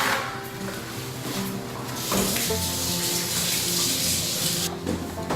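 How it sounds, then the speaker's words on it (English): Running tap water pours steadily over hands being washed at a kitchen sink while cooking a cast iron skillet roast chicken, a continuous close splashing hiss with no talking. "we're gonna wash our hands again"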